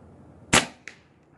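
A single sharp report from an RTI Priest .25 caliber airgun, followed a fraction of a second later by a fainter metallic click or impact, close and loud in an otherwise quiet setting.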